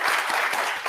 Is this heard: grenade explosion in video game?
no